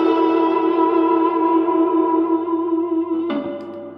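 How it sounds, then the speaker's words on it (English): A distorted electric guitar chord played through an Electro-Harmonix Canyon delay and looper pedal sustains loudly with echoing reverb, then a second chord is struck near the end before the sound fades. "Let's go for the distortion."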